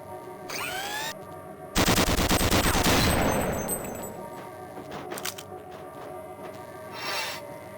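A weapon in Gunman Chronicles fires at targets on a training course: a dense, loud stream of rapid shots lasting about a second and a half, trailing off into a hissing, overheated whine, with a few scattered shots after.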